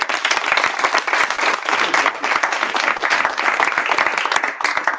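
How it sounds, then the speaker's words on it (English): Audience at a startup founders' demo night in Bristol breaks into applause: dense, even clapping from a crowd, steady and fairly loud throughout with no speech over it. "Let's give a round of applause."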